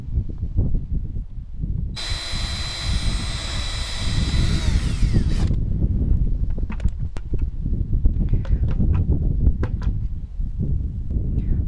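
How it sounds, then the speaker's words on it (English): A power drill with an installation bit bores breather holes in a 5-gallon plastic bucket, whining steadily for about three seconds over a background hum, then a few scattered clicks follow. "it's really important to drill some breather holes"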